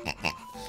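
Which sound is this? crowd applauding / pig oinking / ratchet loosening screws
pig oinking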